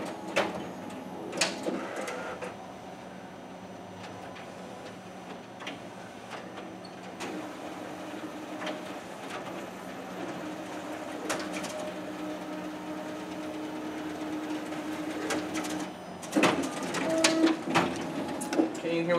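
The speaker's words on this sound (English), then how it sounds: "Okay, now we're going to go ahead and run a few test copies to show the color quality in this machine." A Xerox color copier runs two test copies, giving a steady mechanical hum with repeated clicks and feed thumps throughout, moderately close and fairly quiet.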